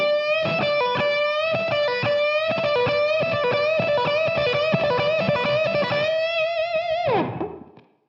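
Distorted electric guitar plays a repeating four-note rock lick, a fast steady cycle of picked notes that ends on a bent, fading note, loud and alone with no talking.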